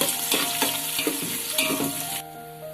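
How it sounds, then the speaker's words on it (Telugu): Onions fry in hot oil for chicken biryani, a bright continuous sizzle with repeated spatula stirring strokes in the pan, close and moderately quiet, ending abruptly, with no talking. "వెంటనే ఉల్లిపాయలు ఎర్రగా వేగాలి"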